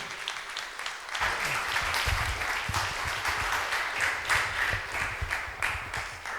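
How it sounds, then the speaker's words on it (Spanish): Sustained audience applause for a presenter named Daniel at a game design talk, a dense crowd of clapping hands swelling after a quiet first second and holding steady to the end. "Lo primero de todo, un aplauso, por favor, para Daniel."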